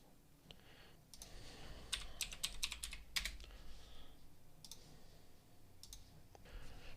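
Computer keyboard typing while writing a Python file, a burst of quick, close clicks in uneven runs with a few louder key strikes, over a faint low room hum.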